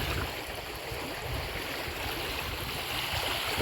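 Floodwater flows through a village after heavy rain, a steady rushing gurgle filling the scene at an even level, near and continuous, without speech.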